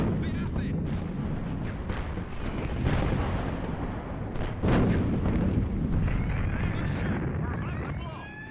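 Explosion in the space strategy game Nexus: The Jupiter Incident, as a battleship is destroyed: a continuous roaring, crackling blast with rumbling bursts and a sharper hit midway, steady and loud throughout.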